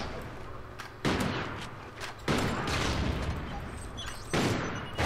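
Call of Duty Ghosts gameplay with loud, dense bursts of gunfire: three long volleys of rapid shots that start abruptly, with brief quieter gaps between them.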